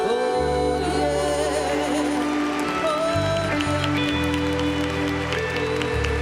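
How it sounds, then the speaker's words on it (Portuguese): A church congregation applauds during a Catholic service, steady broadband clapping under sustained music with a held low organ-like tone and voices over it. "E aplauda o Espírito Santo."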